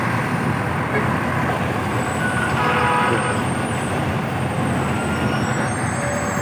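A shuttle bus for pilgrims rumbles nearby amid busy roadway noise, a steady dense engine drone with faint beeps and crowd murmur in the background.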